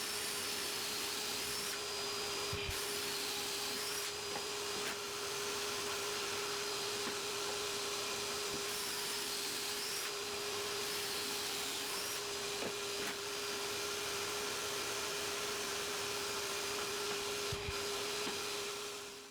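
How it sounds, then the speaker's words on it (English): A power drill bores pocket holes into wooden bench parts, producing a steady, loud motor whine that runs almost unbroken for the whole stretch, with a few brief dips where the bit pauses. "On the longest side, add 2 pocket holes per side."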